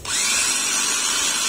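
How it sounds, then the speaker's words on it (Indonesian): A kitchen blender grinding a shrimp superfood feed mix of blended ingredients thinned with ketapang leaf water, running as one steady, loud, high-pitched whir from start to finish with no talk. "Blender lagi"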